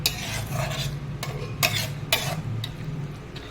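Taro greens cooking with a katla fish head are stirred in a pan, a spoon scraping and clinking against the metal in irregular strokes over a soft steady sizzle, with no talking.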